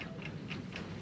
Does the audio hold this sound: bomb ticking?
yes